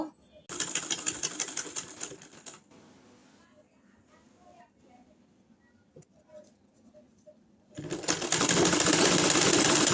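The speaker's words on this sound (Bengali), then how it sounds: "এখন আমি এই সাইডটা সেলাই করে নেব।" A sewing machine runs in a loud rattling burst, stitching the side of a doormat made from old cloth and a rice sack, then falls quiet under soft handling noises before starting again loudly near the end.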